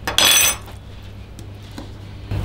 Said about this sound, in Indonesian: Kita kerok pakai sendok ini tuh ya.